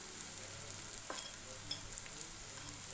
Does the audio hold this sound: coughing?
no